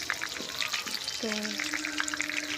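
Spice-coated pieces fry in hot oil in a pan with a constant crackling sizzle, stirred with a few scraping strokes, while someone speaks briefly nearby.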